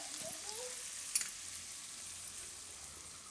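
Spices such as turmeric, coriander-cumin and red chilli powder hit hot oil with ginger, making a soft continuous sizzle with one brief clink, faint and steady, no voices.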